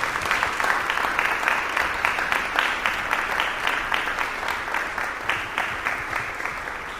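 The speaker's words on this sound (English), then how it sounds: "Wind Symphony and their conductor, Ken, with applause" Audience applause welcoming the Southern University Wind Symphony and its conductor at an afternoon church service, a steady dense clapping that stays loud and even throughout with no voices over it.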